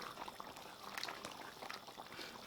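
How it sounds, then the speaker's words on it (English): Pakistani-style chicken karahi cooks in a pot of released juices, giving a soft, continuous bubbling simmer with small wet pops and stirring clatter, faint and close, no talk. "Give it a little stir up."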